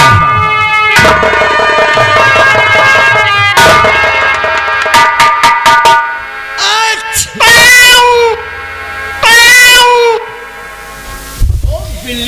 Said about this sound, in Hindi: अरे बिल्ली भी रो रही है।